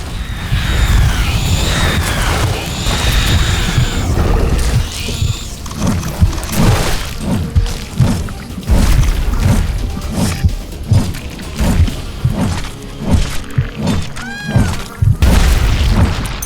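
Repeated explosions and heavy booms tear through a creature nest in The Riftbreaker, a sci-fi base-building action game, with dense overlapping blasts, thuds and crashes rolling steadily across the whole stretch, loud and close.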